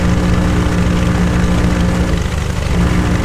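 A Cessna 172's propeller engine drones loud and steady during taxi, a dense continuous roar with a throbbing low hum that barely varies from start to finish.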